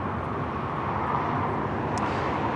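A United 787-9 Dreamliner taxiing across at Los Angeles International Airport, a broad steady jet roar from a distance, even and unbroken throughout.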